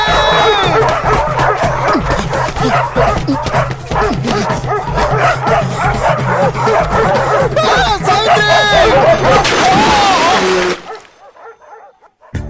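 Several dogs bark loudly and rapidly in a frantic chase, with yips and whimpers mixed in and shouting voices over the commotion, before it cuts to near silence.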